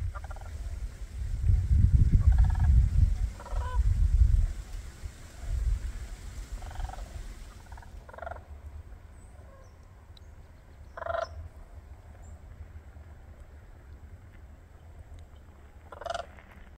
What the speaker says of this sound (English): Now those were sandhill cranes.